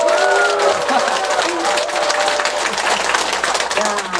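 A lecture audience keeps up loud, continuous applause for a professor's talk on the Diamond Sutra, with a few voices heard beneath the clapping.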